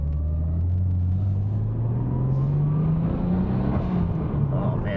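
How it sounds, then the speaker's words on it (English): A Nissan Skyline GT-R R33 V-spec with an APEXi intake revs up close by, its engine rumble rising steadily in pitch over a few seconds, with no distinct blow-off valve release standing out. "It makes that blow-off valve sound so much better too."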